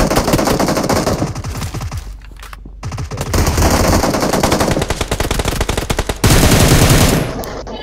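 Gunfire in the mobile battle royale game BGMI, with rapid automatic bursts and repeated single shots rattling loudly and close for the whole stretch, broken by a brief lull.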